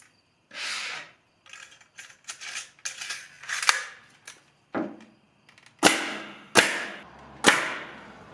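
A 2.5 inch framing nailer drives nails into the top and bottom pieces of a workbench countertop, giving several sharp, loud pneumatic bangs, the last three spaced about a second apart, among softer handling clatter.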